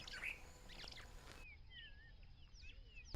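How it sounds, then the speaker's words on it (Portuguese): Bulbul calling in savanna at Gorongosa: several faint, scattered chirps and whistled notes, distant and soft, ending in a brief louder bump, with no talking. "Bulbul, yeah."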